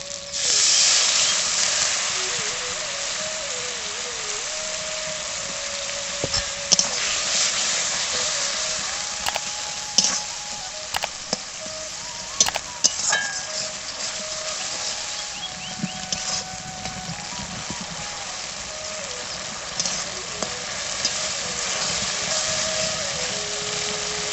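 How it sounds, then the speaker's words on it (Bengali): Water is added to spices cooking in a pan for mutton curry, producing a continuous loud, close hiss with occasional sharp crackles; no one speaks. "মশলা ভালোভাবে কষানোর জন্য একটু জল দিয়ে দেবো"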